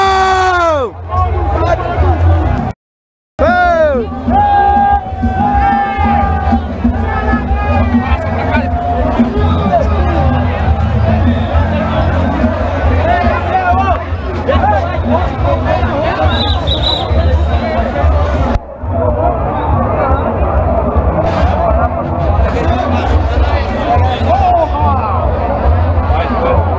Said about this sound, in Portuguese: Eita, torcida grande!